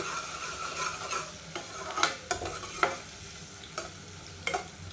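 Chopped onions frying in a pan until lightly browned, a soft steady sizzle with several sharp scrapes and clinks of a spoon stirring against the pan, close by with no talking.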